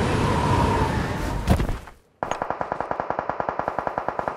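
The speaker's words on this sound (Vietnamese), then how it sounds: "có tiếng súng nè" Gunfire in the battle-royale game PUBG Mobile: after a loud rushing passage and a brief drop to near silence, a steady rapid string of automatic shots rattles on evenly, fairly close and loud.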